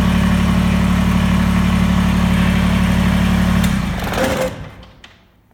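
A Kubota BX23S compact tractor engine idles steadily and loudly at close range, then is shut off; the running note drops away and fades out to near silence over the last second and a half.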